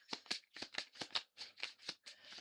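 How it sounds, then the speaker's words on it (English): Tarot cards riffled and shuffled in quick bursts, about nine crisp flutters with short gaps, close and fairly quiet, no talking. "Oh, I'm shuffling them."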